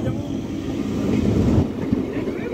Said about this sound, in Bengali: ট্রেন ঢুকে গেছে, ট্রেন ঢুকে গেছে